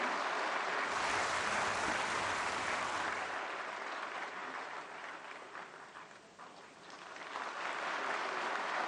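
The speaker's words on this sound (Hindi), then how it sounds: "प्रधानमंत्री जी के लिए जोरदार तालियां" An audience at Vigyan Bhawan applauds Prime Minister Modi, a dense, sustained roar of clapping that eases slightly midway and swells again toward the end.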